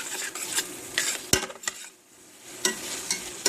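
Bacon and onions frying gently in a pan, a soft steady sizzle broken by several clinks and scrapes of a utensil stirring against the pan, close and without talk.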